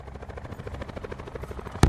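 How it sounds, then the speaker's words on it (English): A helicopter in a Blackout-mode shooter game closes in, its rotor thumping in a fast steady pulse and growing nearer, with a sharp bang cutting in near the end. "Our teammate just took a chopper. You guys gotta come for this. It's coming towards you."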